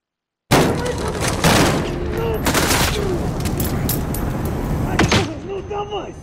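Gunfire in the video game Call of Duty: Modern Warfare: a dense burst of rapid shots and booms that starts abruptly and keeps going, with shouted voices mixed in.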